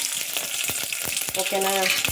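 Heated oil sizzles sharply as a tempering of cumin, curry leaves, chilli and garlic fries, crackling close and steady with a few pops. A voice speaks briefly near the end.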